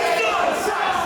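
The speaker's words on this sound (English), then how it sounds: "this crowd here in Duluth is letting Reginald know what they think of him" A dense wrestling crowd in Duluth roars and jeers continuously at an event, a loud, sustained wash of voices with no breaks.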